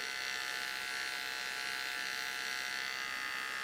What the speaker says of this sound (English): I'm pretty confident this trimmer works for the beard and should work for the hair